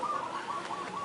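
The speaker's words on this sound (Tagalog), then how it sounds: "may mga sound pa ng ibon" Birds calling by the sea at Napaling Reef, a brief run of repeated chirping notes at moderate distance.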